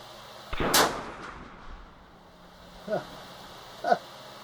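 A single loud, sharp report from a .243 rifle fired at a 50-yard target cracks close by and decays quickly, followed by a couple of faint short sounds in a quiet outdoor setting.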